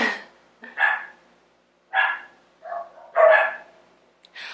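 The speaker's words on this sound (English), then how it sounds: "I apologize if you hear my dogs barking." Several dogs bark repeatedly in irregular bursts, close by, some barks doubled, with brief pauses between them.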